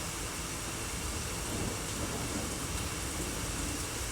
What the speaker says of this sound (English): I just love the sounds of thunder.